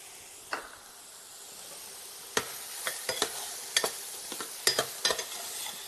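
Spices sizzle in a pan of barbecue sauce with red or white onion, a soft steady hiss broken by repeated sharp scraping strokes of stirring, close and fairly quiet, with no talk.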